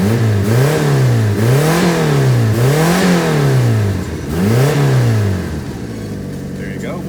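A 1994 Mitsubishi Minica Toppo kei car with a 660cc engine and aftermarket performance exhaust revs repeatedly, each rev climbing and falling in a steady rhythm of about four close, loud bursts before settling to idle.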